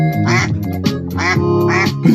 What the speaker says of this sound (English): go say hello to the ducks